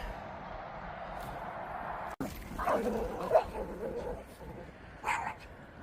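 Dogs whimper and yip nearby, giving a few short barks and whines in scattered bursts over a quiet background hiss.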